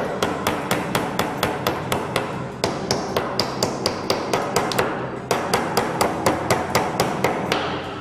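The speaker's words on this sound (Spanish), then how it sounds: "Le dais unos golpes y los clavos siempre fuera." A hammer knocks nails out of wood while a mobile planter is being built: a rapid, steady run of about thirty sharp, close knocks with no voices.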